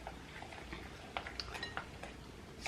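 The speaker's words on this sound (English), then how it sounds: "I'm gonna mix this together." Utensil scraping and clinking in a bowl while a coconut oil and peanut butter keto dessert mixture is stirred, a series of light irregular clinks at close range.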